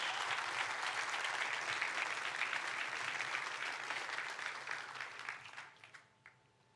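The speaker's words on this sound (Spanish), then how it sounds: "Denle un fuerte aplauso a Dios." A church congregation applauds steadily, then the clapping thins out and fades away, leaving scattered final claps at the end.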